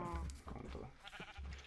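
Cows in a video game, set on a farm, bleat and low in short animal calls over a steady background soundtrack.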